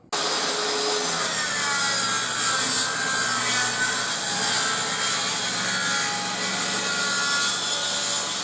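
Wood being cut for a shaker door panel, a loud continuous sawing and rasping grind running steadily from start to finish, close by with no talking.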